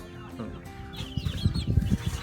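Leghorn chicks and young chickens on a farm clucking and peeping together, a busy close flock chatter that grows louder and denser toward the end, with no talk.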